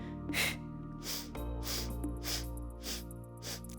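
Audible breaths in and out come from someone doing a wall pilates exercise. Several soft, airy exhales and gasps sound close, with a quiet backing track humming underneath.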